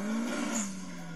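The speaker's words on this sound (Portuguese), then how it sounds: "Você percebeu que ele não para de fazer drift?" A Nissan S14 engine whines at a steady pitch on a street while a tire squeals briefly in the middle as it drifts, fading slightly toward the end.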